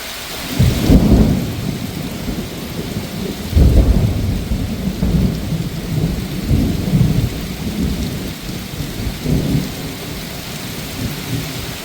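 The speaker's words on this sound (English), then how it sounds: "The rains were heavy, but they came through quick, and they exited quick" Heavy rain pours steadily at a Pennsylvania campground during a thunderstorm, loud and close, while deep rolls of thunder swell and fade repeatedly underneath.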